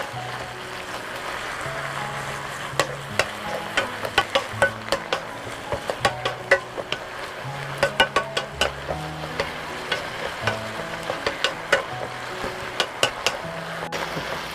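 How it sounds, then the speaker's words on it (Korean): Shishito peppers stir-fried with garlic and small anchovies in a pan, a constant sizzle under a long run of irregular spatula scrapes and clacks against the pan, close by, no talk. "고추에 간이 잘 배고 나른나른할 때 고기에도 나른나른해졌다 할 때까지 볶아줍니다."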